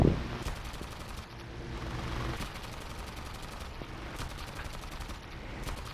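Aircraft guns firing in the War Thunder air battle video game: sustained rapid bursts of machine-gun fire over a steady engine drone, repeated through the whole stretch.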